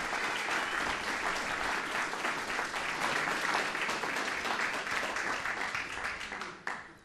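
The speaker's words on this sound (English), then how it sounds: "Please give them a round of applause for their actions that evening." An audience at a police department awards ceremony gives a sustained round of applause for two officers, dense crowd clapping that holds steady for several seconds before thinning and fading out.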